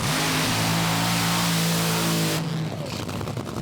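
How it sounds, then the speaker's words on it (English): Two race cars doing a burnout at Willowbank Raceway, a loud, sustained engine roar with strained revving and tyre noise that cuts off abruptly near the end, no talk. "Both cars just really sounding monstrous in the burnout"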